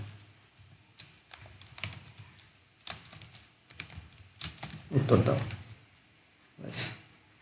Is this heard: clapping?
no